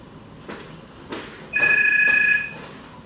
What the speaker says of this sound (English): Sorry, that was the phone.